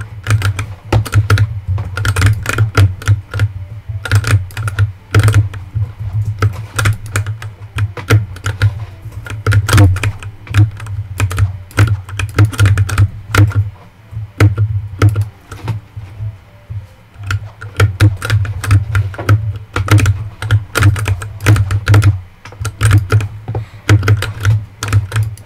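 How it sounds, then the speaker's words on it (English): Continuous rapid typing on a clicky computer keyboard, loud and close, with dense bursts of keystrokes and brief pauses. "your keyboard sounds worse and worse every video"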